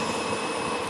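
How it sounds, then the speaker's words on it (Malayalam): A video game jet pack engine strains to take off, giving a steady, droning mechanical roar that holds level for a brief moment with no voices. "ഈ ജെറ്റ് പാക്ക് ടേക്ക് ഓഫ് ആവടേ"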